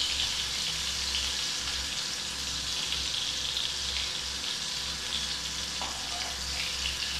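Stuffed bitter gourd koftas fry in oil, giving off a steady, close, dense sizzle that holds evenly throughout with no voices.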